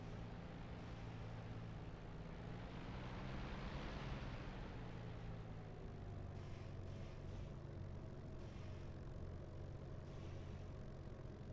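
A jet or prop aircraft engine spools up on takeoff in the DCS flight simulator, a steady droning hum with a rising whine midway, heard alone at a low level.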